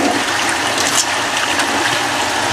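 Water drains down out of a pumped system fitted with an ECP Group pumpstat, a loud, steady close rush and hiss of flowing water that runs unbroken throughout.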